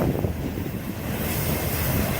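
Freight train cars rolling past on the rails, a steady broad rumble with rhythmic low clatter from the wheels, wind buffeting the microphone throughout, no talk.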